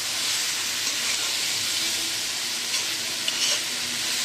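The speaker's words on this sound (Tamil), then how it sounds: "நல்லா வதங்கட்டும்." Ridge gourd sautéing in a pan while being stirred, a steady close sizzle and hiss with soft scraping of the spoon running throughout, no talking.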